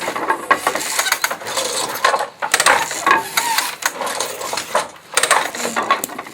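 A wooden handloom with treadles and heddles weaves a traditional Krolevets towel, producing busy clattering, clicking and rattling in uneven bursts with short pauses, fairly close and loud, with no speech.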